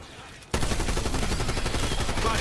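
Rapid automatic gunfire from a weapon in Black Ops 6 Zombies, on the Liberty Falls map, kicks in abruptly and bursts loudly and continuously to the end.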